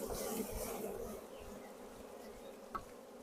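Dense, steady buzzing of many honey bees close by over an open hive during a walk-away split, continuous throughout with no voices.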